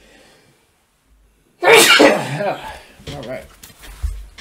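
A single loud, close sneeze bursts out after a brief quiet moment, followed by a few words of speech.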